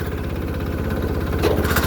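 A Sears Suburban tractor with a 6 HP diesel engine runs while it is being broken in, during a snow plow build. The engine knocks close and steady in a fast, even rhythm, and there is a brief surge near the end as the gear is shifted.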